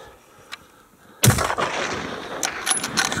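A single loud rifle shot during an ibex hunt in snowy Central Asian mountains, sudden and close, followed by a rumbling echo that rolls on for two seconds, with faint outdoor ambience before.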